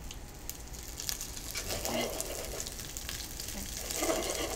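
Soft crackling sizzle as sliced fennel hits hot oil in a pan, with a few light taps and rustles close by.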